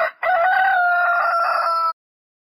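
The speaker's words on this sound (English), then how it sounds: "Rooster." A rooster crows once, a loud, close, sustained cock-a-doodle-doo lasting under two seconds, alone.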